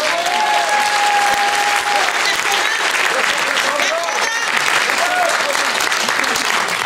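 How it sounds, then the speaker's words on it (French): A theatre festival audience applauds steadily and loudly throughout, a dense, continuous clapping with a few voices and murmurs rising briefly within the crowd. "On peut les applaudir."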